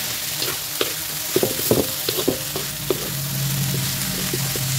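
Bitter gourd (ampalaya) fries in a hot pan with a steady sizzle while a utensil stirs it with scattered scraping knocks. The frying hiss swells toward the end.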